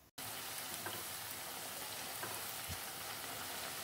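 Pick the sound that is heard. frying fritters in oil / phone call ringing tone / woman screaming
frying fritters in oil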